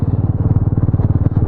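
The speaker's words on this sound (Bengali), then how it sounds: "চলো আস্তে আস্তে বাইক চালিয়ে যায়" A motorcycle rides slowly along the Shaktigarh road in thick fog during a Kolkata-to-Raiganj trip, its engine chugging in loud, rapid, even pulses close to the listener throughout.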